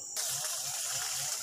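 Small river flowing under a wooden bridge of ulin wood in the forest, a steady soft rushing and trickling of water heard close up at low volume, with no talk.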